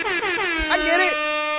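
A harmonic horn blast sounds up close, wavering and bending as a voice imitates an air horn, then holding a steady tone.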